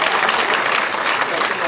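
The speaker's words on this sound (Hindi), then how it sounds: "एक बार जोरदार तालियां बजाएं, हाथ उठाकर जोरदार तालियों से इन कार्यकर्ताओं का हौसला बुलंद करें।" A crowd at a community cultural program gives loud, dense, continuous applause, many hands clapping close up without pause.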